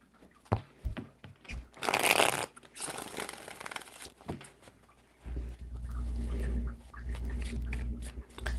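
Tarot cards being shuffled in a few soft, close bursts of riffling and papery rustling, with a low hum underneath in the later part.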